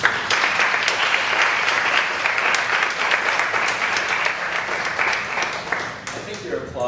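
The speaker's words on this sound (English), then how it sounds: "you're applauding me" An audience at the close of a talk breaks into loud, continuous clapping that stays thick and even for several seconds before thinning slightly at the end.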